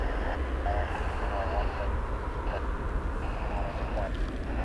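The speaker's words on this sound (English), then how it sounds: "I can't see it, but I can hear the reverse thrusters." An airliner, American Flight 1098, lands at DFW International Airport in dense fog. Its reverse thrusters make a steady broad roar under talking.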